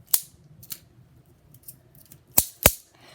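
Scissors snip at Shopkins toy packaging in sharp, separate cuts: a couple of clicks early on, fainter ones in the middle, then two loud snips close together near the end, all close by with no talking.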